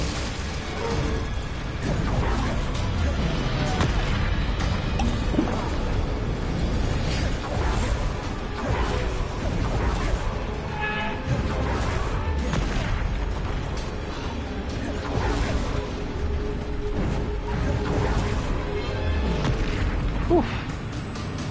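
Bombarda explosion spells from Hogwarts Legacy, with repeated booming blasts and crashes in a dense, loud run of game combat effects and magic impacts lasting throughout.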